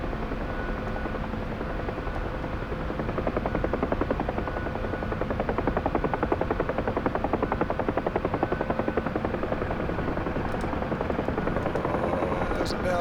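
A Huey helicopter lands near a bridge on a snowy road, its rotor beating in a loud, steady rhythmic thump with a constant engine drone, as people speak over the noise.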